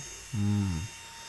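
A short, loud burst from an air blower clears dust off a car panel coated with LM graphene spray, a steady harmonic whine lasting about half a second over faint background hum.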